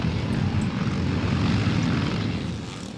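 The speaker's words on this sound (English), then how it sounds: "it's number 55, Tommy Anderson on the Husqvarna, who's made an early start" Dirt bikes, including a 250 Husqvarna and a British-made CCM, race at a classic off-road event, giving a dense, continuous engine drone that is loud and steady throughout with no talk.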